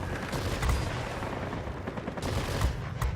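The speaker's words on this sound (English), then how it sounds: "I'm going to use the machine guns to finish off that F4F" Yak-9 fighter machine guns in World of Warplanes fire in rapid, rattling bursts, with dense thudding reports and a few sharper cracks standing out over a rumbling engine drone.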